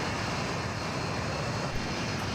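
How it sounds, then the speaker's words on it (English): A helicopter's engine and rotor roar steadily and loudly as it flies down in the Call of Duty Mobile game, a dense continuous drone with no talk over it. "Now, helicopters is going to fly down and break down"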